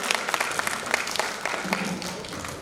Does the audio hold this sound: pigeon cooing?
no